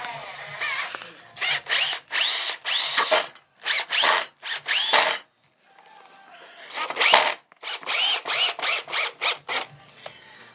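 A cordless drill drives screws into a wooden workbench frame in a series of loud, close bursts of high whine, several short runs, a pause, then another quick string of bursts, with a few quiet words spoken between them.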